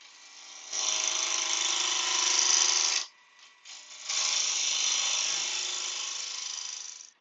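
A wood lathe turning a small lidded box spins at about 1500 RPM with a steady, fairly loud whir. It runs for about three seconds, drops away briefly and then resumes for the rest of the clip.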